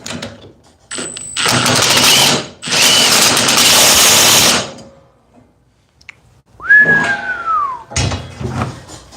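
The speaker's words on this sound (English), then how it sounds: "So let's ream this out." A cordless power tool with a 6 amp hour battery reams out electrical conduit in two loud, close, high-pitched whirring bursts, followed by a metallic clatter and a few sharp knocks.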